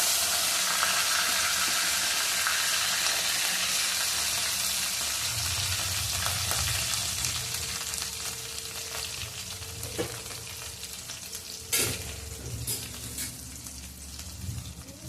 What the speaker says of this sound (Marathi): कांद्याला आपण छान गुलाबी होईपर्यंत परतून घेऊया.